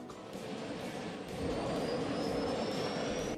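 A motorbike in the zombie survival video game Last Day on Earth drives along with a steady droning engine hum that swells slightly midway, without speech.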